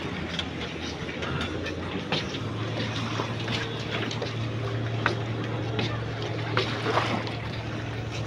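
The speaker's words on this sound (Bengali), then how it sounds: "স্পিড বোট দিয়ে আসার মজা আলাদা।" A speedboat crossing the river between Croatia and Serbia, with a steady engine drone and rushing water running throughout. Faint voices sit under the constant noise.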